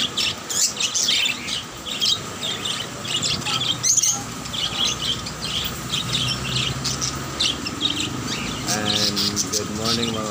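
Lots of birds chirp, tweet and squawk all at once at a market bird stall, with people talking amid a busy, bustling background.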